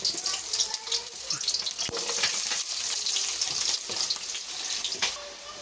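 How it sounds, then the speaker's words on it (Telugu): Sliced onions frying in hot oil in a pan for egg dum biryani, a continuous loud sizzle and crackle with occasional scraping and stirring knocks, close up. "ఇలా ఫ్రై చేసుకోవాలి ఈ ఆనియన్స్ అన్నీ బ్రౌన్ కలర్ అంటే గోల్డ్ కలర్లోకి వచ్చేయాలి"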